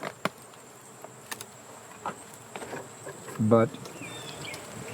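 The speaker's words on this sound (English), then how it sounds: "There's bees up under the inner cover." Honeybees of a small colony hum faintly under the inner cover of a hive. It is a soft, steady drone with scattered taps and knocks, and a brief word is spoken.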